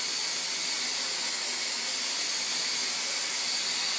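A Dyson Ball Animal 2 vacuum cleaner runs with its floor head attached, a loud, steady high-pitched motor whine and airflow roar held constant throughout, no voices.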